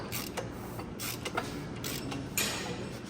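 A 24mm socket turns an LS engine crankshaft by hand, giving a series of soft creaks and mechanical clicks in an uneven rhythm, close up.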